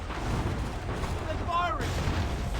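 Muffled booms and distant gunfire in an Assassin's Creed 3 battle, low rumbling blasts spread across the moment with a brief whistling streak near the end, under a background of in-game shouting.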